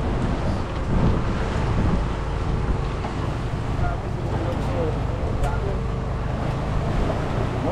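Wind roars steadily across a fishing boat at sea, a dense, loud rumble buffeting the microphone for the whole stretch, with no clear break or gusting pause.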